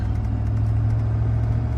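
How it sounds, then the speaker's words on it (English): A pickup truck's engine hums steadily while driving up a slight incline, a low, even drone that holds at constant volume for the whole moment with no voices. "Listen to this truck purr."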